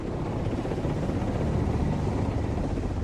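A search and rescue helicopter flying through storm-force winds over the open ocean makes a loud, dense, continuous rotor and engine roar that stays steady throughout, with no voices.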